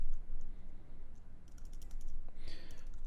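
Soft, quick keystrokes tap on a computer keyboard in a quiet room, a short run of light irregular clicks close by.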